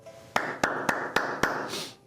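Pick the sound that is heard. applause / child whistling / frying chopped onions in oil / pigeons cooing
applause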